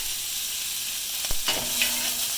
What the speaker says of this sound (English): And then we're just going to give it a nice sear.